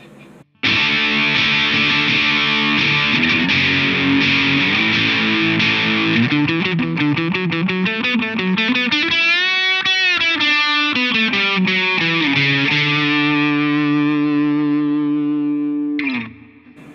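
An electric guitar played through an MXR Custom Badass '78 Distortion pedal with the crunch setting off, light overdrive, notes ringing and bending in a smooth, sustained phrase without heavy crunch.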